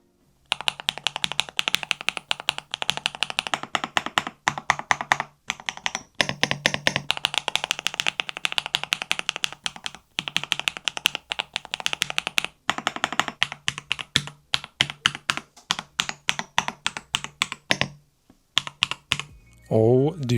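Fast, steady typing on a UNIQMAG 68 mechanical keyboard fills the clip with dense, crisp key clacks, briefly pausing between bursts.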